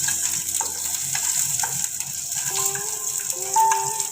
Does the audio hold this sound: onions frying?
yes